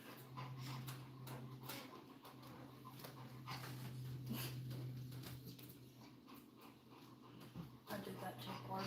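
A pregnant dog about to whelp pants steadily with faint whimpers, close by, under a constant low hum and people talking softly nearby.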